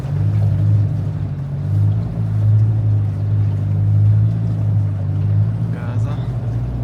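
Range Rover L322 on 35-inch tires driving hard through a frozen, snowy forest, its engine a loud, steady low drone throughout with brief voices breaking in near the end.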